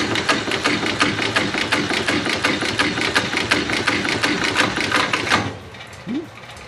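Heavy-duty stitching machine in a workshop running a fast, close, rhythmic clatter of stitches for about five seconds, then stopping abruptly, leaving a faint hum and a brief squeak.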